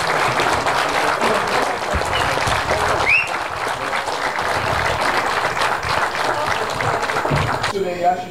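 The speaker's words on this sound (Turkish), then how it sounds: "Alkışlar bu güzel ruhlu hanımefendi için." A crowd at a municipal group opening ceremony in Fındıklı keeps up steady applause for several seconds, with an announcer's voice talking over the clapping.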